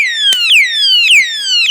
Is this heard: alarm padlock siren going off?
yes